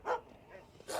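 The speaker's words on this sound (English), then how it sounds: "vicious dogs" Dogs bark sharply nearby, two loud barks separated by a short pause, vicious and aggressive in tone.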